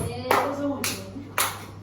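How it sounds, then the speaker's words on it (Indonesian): Three sharp claps spaced about half a second apart in a classroom, fairly close and loud over a low steady hum, with faint voices in the background. "tepuk tangan buat tulis"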